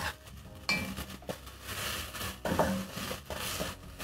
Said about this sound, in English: Stir in the spices so that they can cook together with the tomatoes.